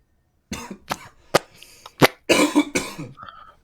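A burst of several harsh coughs, close and loud, the last ones rougher and more drawn out, with no talking.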